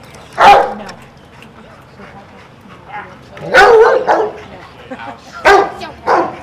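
A sheriff's K-9 search and rescue dog barks in three loud bursts spaced a few seconds apart, with people talking close by between and over the barks.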